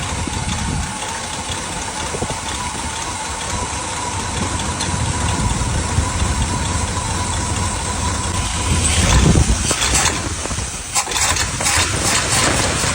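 A GMC C7000 truck engine, an old square-body work truck being roughly tuned, runs steadily with a rough broadband rumble, rising a little louder near the end with some clattering bursts.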